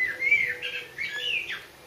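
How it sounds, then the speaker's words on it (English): A blackbird sings outside near a garage where a classic Mk3 Cortina is being prepared for painting, two clear fluting whistled phrases, fairly close and loud against quiet background. "Blackbird agrees."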